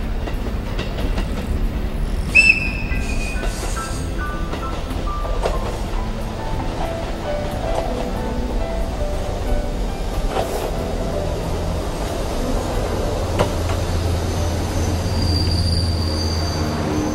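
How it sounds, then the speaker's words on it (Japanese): Train bound for Asahikawa pulling into Nakafurano station in Hokkaido, with loud wheel squeal and rolling rail clatter that slows and settles near the end. "旭川行きの列車が入ってきました。"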